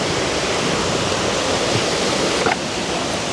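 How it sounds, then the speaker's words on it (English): A river flows steadily in a sunny outdoor setting, a broad continuous rushing wash of water with no pauses, fairly loud and close, with no voices over it. "the river is there, and as you can hear the sound"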